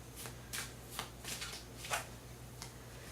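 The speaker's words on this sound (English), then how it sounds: "Just going to shuffle a little bit." Tarot and oracle cards being shuffled by hand in short bursts of papery riffling and flicking, close and fairly quiet against a low steady hum, with no talking.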